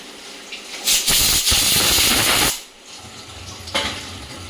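Pressure cooker on the stove lets out a loud, sustained whistle of hissing steam lasting about a second and a half, then fades to quiet kitchen sounds before a brief faint hiss.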